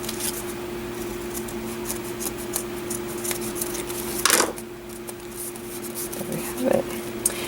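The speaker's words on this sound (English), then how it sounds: "just turn this over, and trim those edges" Scissors trimming the edges of a handmade planner cover, several soft snipping and rubbing sounds close by over a low steady hum, with a voice speaking at times.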